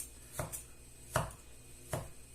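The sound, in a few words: chopping tomato with a knife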